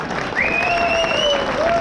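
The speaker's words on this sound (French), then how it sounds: "On peut applaudir Anne." Audience applause at a live show, dense clapping from a crowd with a whistle-like tone gliding through it. Brief and loud throughout.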